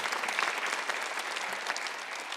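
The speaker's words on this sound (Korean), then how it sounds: "박수를 하나 더 했어요" Applause from a church congregation during a Sunday service, steady and moderately soft, with many hands clapping together throughout and no talking.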